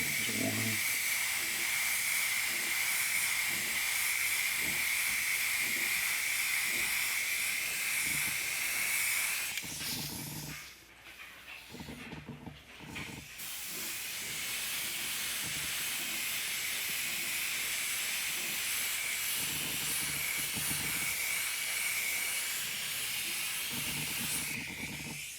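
Airbrush spraying paint with a steady, close, airy hiss that runs for about ten seconds, pauses briefly among light handling noises, then hisses continuously again.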